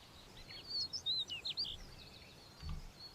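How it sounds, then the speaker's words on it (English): Faint bird chirps and short twittering calls flutter through a soft background hiss from a game soundtrack, a brief cluster of tweets rising and fading with no voices. "Why does the soundtrack or my playlist have bird noises?"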